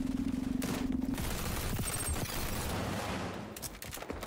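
MP7 submachine gun in the shooter XDefiant: sustained rapid automatic fire rattles through the scene, loud and close, with brief pauses and scattered bursts amid game noise.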